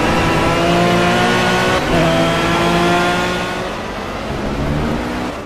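Race cars in the video game Project CARS roar continuously along a crowded track, several engines overlapping loudly with rising and falling revs, no voices present.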